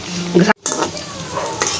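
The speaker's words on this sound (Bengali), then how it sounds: "এগুলো ভেজে নিব" Jackfruit seed fritters frying in oil, with a close bubbling sizzle and stirring, broken by a brief abrupt silence, then the frying resumes steadily.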